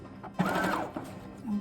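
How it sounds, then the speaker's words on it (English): Sewing machine lock stitching at the end of a scarf hem, a short quiet whir of the motor with a couple of brief mechanical clicks, close and alone. "And remember to lock stitch it in back."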